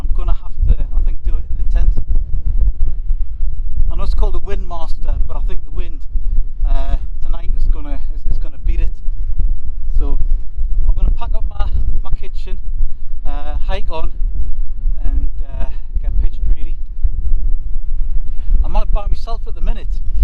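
Strong wind buffets a wild camp pitch in the Simonside Hills, Northumberland, with the Nordisk Telemark tent, a constant low rumble hitting the microphone under steady close talk from a man.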